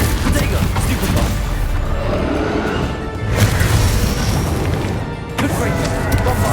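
Magic spells bursting in Hogwarts Legacy gameplay, loud booming blasts and crashes coming one after another with hardly a pause, along with shouted spell incantations.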